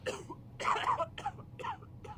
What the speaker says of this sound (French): il y en a pas encore un qui va mourir, il est en train de tousser